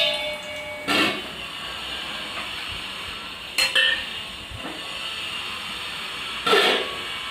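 Spices go into hot oil for Telangana-style chicken, a soft steady hiss of frying running throughout, with three sharper bursts of sizzle and clatter as ingredients hit the pan.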